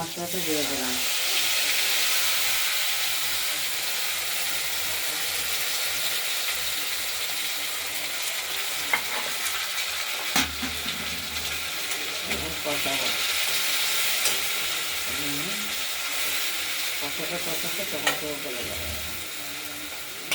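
A ground spice paste fries in a pan for a Pabda fish curry with potato and tomato, giving a continuous steady sizzle and hiss with occasional stirring scrapes and soft clinks.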